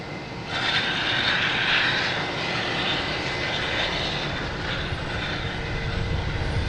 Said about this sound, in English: There's that racket maker down there making all the noise, starting up its engines.